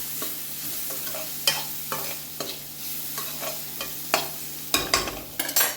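Onions and spices frying and stirred in a pan for okra curry, a continuous close sizzle with repeated sharp scrapes and clinks of a spoon against the pan, no talk.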